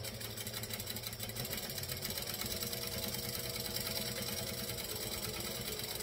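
A sewing machine stitches at its longest decorative stitch length near the edge of a beanie-style baguette bag, a steady, close, rhythmic whirring that runs unbroken throughout.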